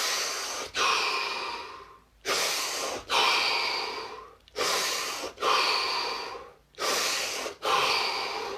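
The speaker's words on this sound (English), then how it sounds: "5 deep breaths, followed by 60 seconds of absolute stillness and silence" Five slow, deep breaths, each a loud inhale followed by a long exhale, taken close to the microphone with short pauses between them and no talking.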